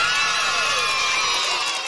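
A large crowd cheers and whoops continuously in Trombone Champ, a dense, loud, sustained roar of shouting voices filling the whole stretch without a break.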